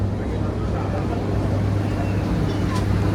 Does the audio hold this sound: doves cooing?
no